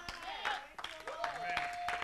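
Congregation clapping hands in a church service, quick bursts of claps mixed with shouting voices and a held sung note, lively and close.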